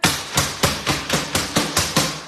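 A baking pan filled with brownie-cookie batter is rapped against a hard surface about eight times in a steady rhythm, each tap a sharp, close, fairly loud knock.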